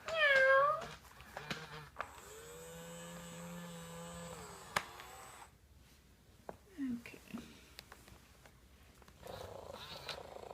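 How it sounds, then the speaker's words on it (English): A robotic toy cat lets out a few electronic meows, then a steady, even, synthetic-sounding purr hums close by, followed by soft handling noises and quiet talk. "You can hear it's a much sort of, I don't know, much more relaxing and less repetitive and synthetic sounding purr."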